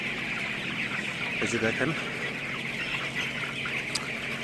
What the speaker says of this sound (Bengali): এগুলো হলো মোরগ, সবই মোরগ।